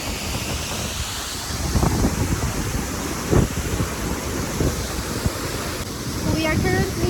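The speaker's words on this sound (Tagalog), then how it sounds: "We are currently here in the waterfalls, as you can see in the background" A strong waterfall at Cascada La Reforma near Puerto Escondido, Mexico, makes a steady, dense roar of rushing water that fills the whole clip, with brief bursts of voices partly masked by it.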